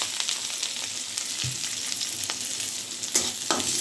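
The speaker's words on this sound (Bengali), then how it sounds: "এবার এই তেলে দিয়ে দেব কুচিয়ে রাখা পেঁয়াজ আর কাঁচামরিচ।" Chopped onion and green chili dropped into hot oil, frying with a soft steady sizzle and occasional scrapes and clinks of a spoon in the pan, no talking.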